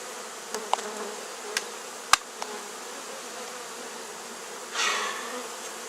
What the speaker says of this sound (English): Marigolds don't stop you from being stung by bees